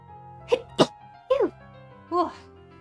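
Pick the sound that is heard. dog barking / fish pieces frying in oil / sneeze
sneeze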